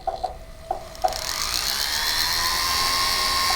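Foot-pedal rotary drill fitted with a reamer grinding into stone, a steady high whine that settles into a continuous drone after a few brief starts and stops, close and moderately loud.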